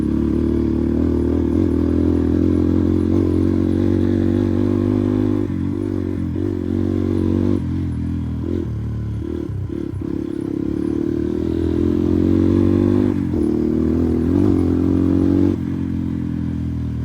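Motorcycle ridden over a rough mountain road on the Balangra Lek side of Dolpa, a close, steady engine drone with clattering and bumping from the terrain throughout, no talk.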